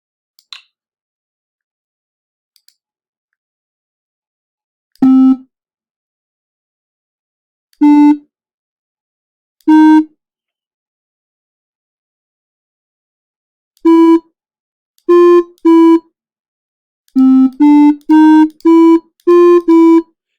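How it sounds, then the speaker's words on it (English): Short electronic beeping tones from an LED game ring out alone in silence, first a few spaced single notes, then a quicker run of beeps like a little tune. "we're going to play some winning tones"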